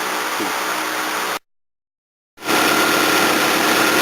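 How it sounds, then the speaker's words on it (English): A Toyota Corolla AE101 engine idling with a steady, broad, even hum, broken by about a second of silence before the rumble resumes, slightly louder. "the old Corolla's running nicely."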